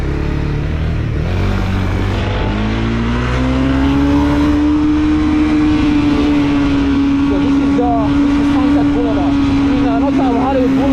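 A motorcycle rides along Hollywood Boulevard, its engine note climbing and then holding a steady droning pitch close up, with surrounding street traffic noise.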